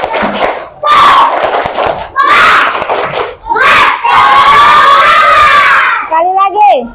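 A group of young people at an Indonesian gathering shouts a rhythmic clap-and-chant cheer, several loud bursts of voices mixed with clapping, close and energetic, with a brief gap between rounds.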